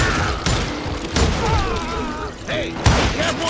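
Gunfire from a Call of Juarez Gunslinger shootout: repeated loud rifle and pistol shots crack in irregular bursts among booming impacts, with shouting voices woven through the fight.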